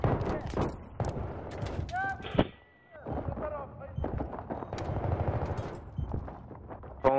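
Rapid gunfire in a shooter video game, crackling in bursts alongside other game sounds with a voice talking over much of it.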